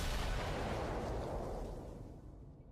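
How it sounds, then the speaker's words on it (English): A shotgun-style blast serves as an impact sound effect in the anime Keijo, a loud, broad booming burst that fades away over a few seconds with no voices. "They use shotgun sounds all the time when an impact happens"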